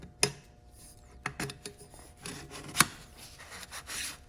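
A 2 1/4 inch stainless steel tube, squeezed tighter, slides over a pipe in a forge build, giving short metallic scrapes and rubbing clicks, faint and close, with one sharp ring midway.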